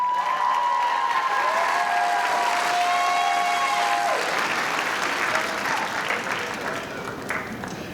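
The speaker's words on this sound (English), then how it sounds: "Let's give them another round of applause." A commencement audience at a college graduation ceremony breaks into sustained applause, dense and steady throughout, with a few whistles and a voice briefly over the top before it slowly tapers.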